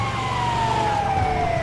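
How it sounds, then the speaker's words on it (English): Ambulance siren in the Grand Theft Auto V video game during a heist mission, with a steady wailing tone gliding slowly downward over a low vehicle rumble, loud and close, with no talking. "They gotta think we're a legit ambulance."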